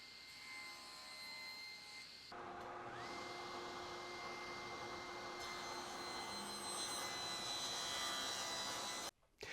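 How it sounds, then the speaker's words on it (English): A table saw with a ripping blade runs while ripping a wood strip along the grain, a loud sustained whine whose tone deepens as the cut begins, then stops briefly near the end. "I'm ripping with the grain of the wood"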